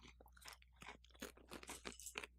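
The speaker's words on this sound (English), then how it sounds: "Keep chewing, it'll get there." Crunchy pumpkin spice Special K cereal flakes being chewed up close, a steady series of crisp, irregular crunches with no talking.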